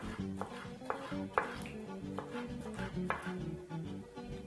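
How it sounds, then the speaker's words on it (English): A kitchen knife chops green and red peppers into thin julienne strips on a board, producing a steady series of crisp, close taps at a regular rhythm. "Now proceed to julienne your green pepper, making sure to chop them into the smallest possible julienne size you can"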